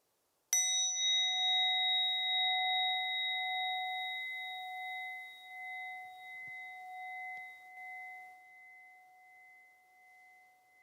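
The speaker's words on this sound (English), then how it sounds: "begin by tuning your ears to the sound of this bell, seeing if you can listen all the way from the beginning of the ring until it trails off into space" A single strike of a meditation bell, a clear sustained ring with pure overtones that slowly fades over about ten seconds, alone in a quiet room.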